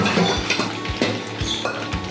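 Pieces of meat frying in a pan of oil give a steady hissing sizzle, with utensils clinking and scraping against the pan as they are stirred and turned.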